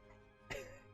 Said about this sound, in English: God, I have to keep clearing my throat.